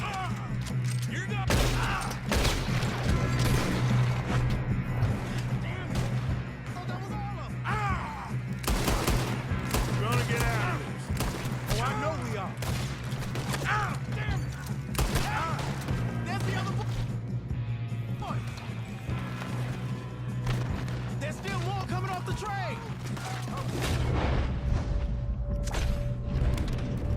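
A Red Dead Redemption 2 shootout erupts in sustained, loud gunfire, with rapid volleys, crashes and impacts layered over a steady background drone, while voices shout throughout the fight.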